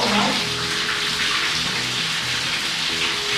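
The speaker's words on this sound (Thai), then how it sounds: "แล้วเราก็ต้องเปิดน้ำเย็นผสมไปด้วยนะ ไม่งั้นเดี๋ยวมันจะนี่นะ มันจะร้อนเกินไป" Hot water gushes steadily from a bath tap into a tub, a continuous broadband splashing rush that stays loud and even throughout, with no talking over it.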